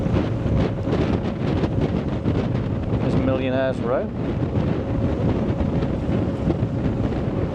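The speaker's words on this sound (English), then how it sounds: "It's pretty windy today on the Manly ferry, but not cold." Strong wind buffets the microphone aboard the Manly ferry crossing Sydney Harbour, a steady loud roar with a brief bird-like whistle in the middle, while someone speaks briefly over it.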